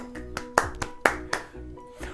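A handful of scattered, uneven hand claps from a music appreciation class, sharp and fairly close, ringing over sustained musical tones.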